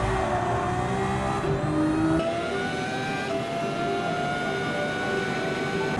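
A Genesis VGT race car engine accelerating at Circuit de Saint Croix in Gran Turismo 7, a loud, steady high-pitched whine with rising pitch, a brief shift break, then climbing again through the gears.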